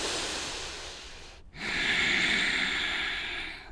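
One deep breath in a yoga flow class: a long airy exhale, a brief pause, then a stronger, rushing inhale heard up close through the nose, with no talk.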